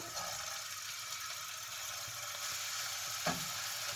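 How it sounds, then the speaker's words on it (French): Meatballs of minced meat for a Moroccan vegetable tagine frying in hot oil, a steady close sizzle that fills the clip, with a single brief clatter near the end. "Donc on va les faire cuire dans l'huile chaude"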